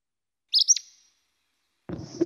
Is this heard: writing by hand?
no